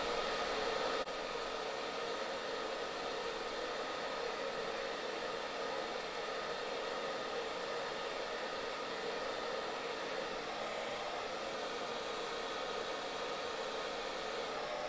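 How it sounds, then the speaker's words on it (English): A hair dryer on high heat and medium speed blows on a beard and mustache, a loud, unbroken close-up whoosh that lasts the whole time. "Take a second to blow dry my mustache out of the way."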